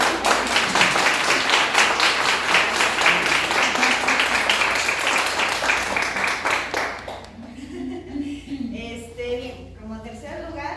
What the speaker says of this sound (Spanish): Entonces vamos a darle un gran aplauso a